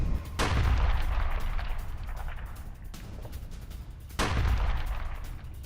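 Israeli strikes on Hezbollah positions in Lebanon produce heavy, deep booms with long rumbling decays. There are two large blasts and a weaker one between them, sounding at a distance.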